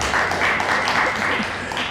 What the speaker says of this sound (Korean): 박수 한번 하십시다.